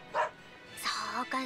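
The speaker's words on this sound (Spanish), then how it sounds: "Son los perros de Nico, ¿no?" Dogs bark in the video game Tales of Berseria, a few short, quiet yips and woofs heard faintly and mixed with game sound.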